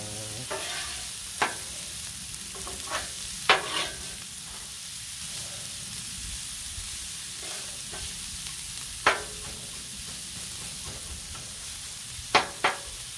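Pierogis, kielbasa and cabbage stirred on an outdoor Blackstone griddle, with a steady low sizzle under scattered sharp scraping clicks of a spatula against the flat-top, no talking.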